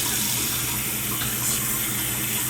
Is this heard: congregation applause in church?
no